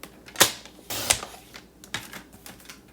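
White cardstock is sliced lengthwise on a paper trimmer, giving a few sharp close clicks and crisp cutting strokes in a quiet room, with no one talking.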